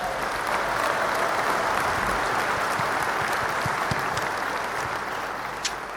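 A crowd applauds a guest, Manny, at a whisky club show, dense sustained clapping that holds steady throughout, with a few indistinct voices mixed in.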